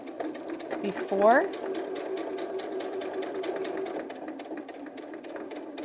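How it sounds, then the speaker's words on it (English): A sewing machine stitches the final seam on doll pants with a steady, fast mechanical rhythm. A person talks over it at the start, and the machine keeps running at moderate volume to the end. "now we're going to sew that final seam right here"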